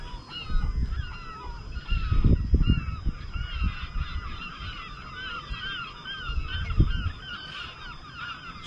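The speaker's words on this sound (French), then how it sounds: "J'observais un peu la valse des oiseaux." Geese honk repeatedly near a sailboat anchored off the Glénan islands in Brittany, a busy chorus of overlapping calls over low wind and water rumble, fairly close and steady.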